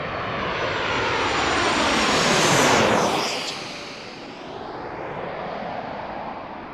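An American Airlines jet airliner in TWA retro livery roars past at Washington National Airport, a loud broadband engine rush that swells to a peak and then fades to a steadier distant rumble.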